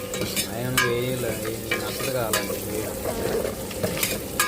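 Mutton fry sizzling in a pan on the stove while it is stirred, a constant close crackle with repeated scraping strokes of the spoon against the pan.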